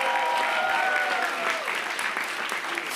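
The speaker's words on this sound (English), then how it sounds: "Let's give a big round of applause to our students." A crowd at a New York City census kick-off rally applauds students in a sustained burst of clapping, with voices and cheers mixed into the steady applause.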